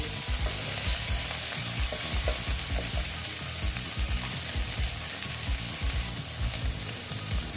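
Steady, loud sizzling of food frying in a pan while making potato chana dal, with occasional scraping stirs, continuous throughout and no voices.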